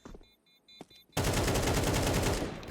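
Sustained automatic gunfire sprays in Counter-Strike 2: a quiet stretch with faint clicks and tones gives way at about one second to a loud, continuous burst of rapid shots lasting to the end.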